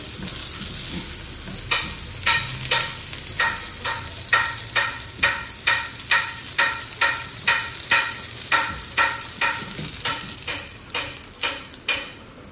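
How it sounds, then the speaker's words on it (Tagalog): Hotdog and eggs sizzle in a frying pan while something scrapes or taps it in a steady rhythm, about one stroke per second, close and continuous. "So, ayan guys, niluluto ko na yung hotdog. And egg na dalawa kay Mr."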